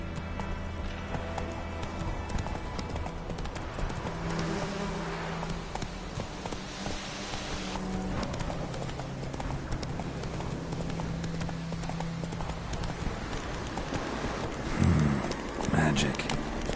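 Roach the horse galloping in The Witcher video game, rapid rhythmic hoofbeat clip-clop running continuously under game music and sound, with a louder burst of hooves near the end.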